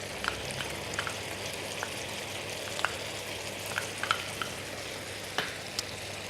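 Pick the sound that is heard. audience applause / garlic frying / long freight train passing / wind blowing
garlic frying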